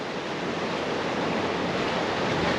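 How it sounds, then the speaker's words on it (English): Sea waves roll and crash continuously against a harbour entrance on a fairly calm day before a storm, a steady broadband wash mixed with wind buffeting the microphone, with no voices. "the waves are crashing in"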